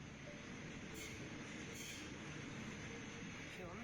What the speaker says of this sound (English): That sounds like a train to me